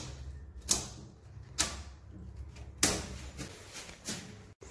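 Circuit breaker switches on an elevator control panel being flipped back on, giving four sharp, separate mechanical clacks spaced about a second apart over a low steady hum.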